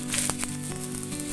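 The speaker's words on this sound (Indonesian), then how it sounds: "ini dua jenis rasa ikan kering yang kita akan goreng" Dried salted fish fries in hot oil, giving a steady close sizzle and crackle with a few sharper pops.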